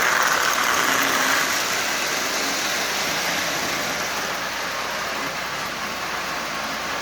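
Marx 1666 toy locomotive motor running loudly and noisily, a steady, close, harsh mechanical whir and buzz that holds for several seconds with slight fading, no voices.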